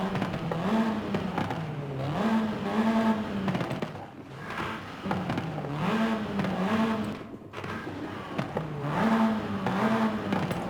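A Volkswagen Golf R 7.5 in Forza Horizon 5 revs through repeated gear pulls, its engine and exhaust note climbing and dropping in a resonant cycle with brief dips between shifts.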